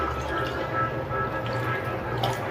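Water is poured into a pot of fermented ragi flour for making koozh, a steady liquid trickle and splash that runs continuously at close range.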